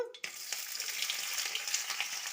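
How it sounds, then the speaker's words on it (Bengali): Pea pods lightly frying in a little oil in a kadai, a soft, even sizzle after a brief clatter at the start, with faint stirring scrapes underneath; no talking. "নাড়িয়ে নেব হালকা ভেজে নেব পুরো ভাজব না"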